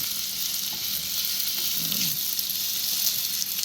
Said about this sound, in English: I like to make sure that the mushrooms get seared.